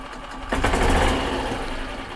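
Gas engine of a 2014 Yamaha Drive golf cart cranks and starts after a quiet moment, then settles into a loud, steady, rattly idle close by.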